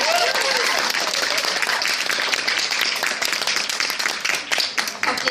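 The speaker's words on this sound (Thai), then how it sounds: "ขอเสียงปรบมือให้กับขอบเจ็ดค่ะ" An audience bursts into loud, dense applause for a contestant group at a live show, steady clapping that thins slightly toward the end.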